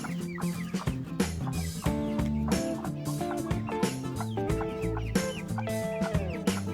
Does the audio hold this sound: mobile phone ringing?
no